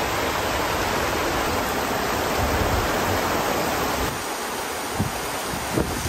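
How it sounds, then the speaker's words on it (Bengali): Heavy rain pours down during a sudden Baishakhi storm, a loud, dense and continuous roar from close by, easing slightly toward the end as a couple of brief knocks are heard. "হঠাৎ খুব বৃষ্টি আসছে, মনে হচ্ছে বৈশাখী ঝড় হচ্ছে একবারে।"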